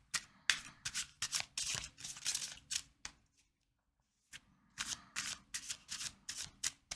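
Tarot cards shuffled in two bursts of brisk riffling, close and fairly quiet, separated by a short pause of near silence.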